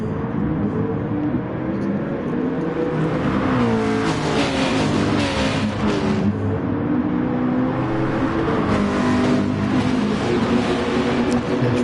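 Race cars in a PS4 racing game brake hard into a right-hand corner and then accelerate away, with engines whining and shifting pitch continuously and loudly. A commentator speaks over the engines.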